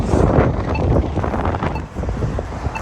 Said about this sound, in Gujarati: પવન જબરદસ્ત છે.